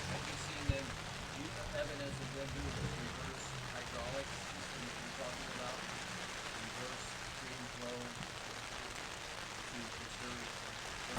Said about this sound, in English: I'm having a hard time hearing you because the rain.